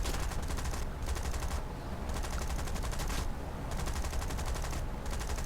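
Sustained bursts of machine-gun fire from a Lancaster bomber's turrets aimed at an enemy plane in a realistic air-combat video game, loud and dense, with brief pauses between long volleys.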